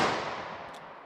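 A single sharp gunshot from a .32 H&R Magnum revolver firing DoubleTap copper hollow points into ballistic gel, loud and close, with a quick decaying outdoor tail.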